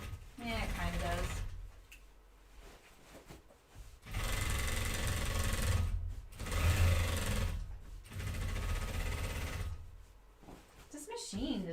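A sewing machine stitching the inseam of a pair of jeans, running in several sustained bursts of whirring mechanical chatter separated by short pauses; a voice is heard briefly at the start.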